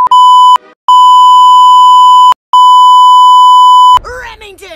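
Loud, steady electronic censor bleeps cover swearing in a cartoon, several long tones broken by brief gaps, then a character's voice carries on talking after the last bleep.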